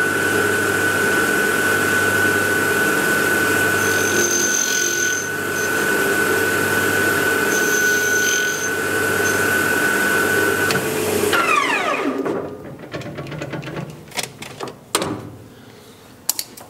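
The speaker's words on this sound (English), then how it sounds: "First I'm going to face off this pipe." A lathe facing off a 32mm pipe at 2500 RPM, a steady loud machine whine and hum with intermittent higher cutting tones, running continuously before winding down into quieter clicks and rattles near the end.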